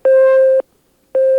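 A telephone busy signal on a failed call: two loud, steady electronic tones, each about half a second long, separated by a short silence.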